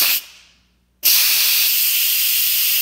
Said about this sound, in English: you're going to see this quick burst of hot steam.